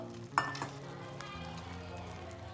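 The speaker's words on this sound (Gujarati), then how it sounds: "થોડીક વાર માટે તેને હલાવીશું" A ghee mixture being stirred in a pan for mixed sukhdi, with a soft steady sizzle and several sharp clinks of a spoon against the pan near the start, heard close up and alone.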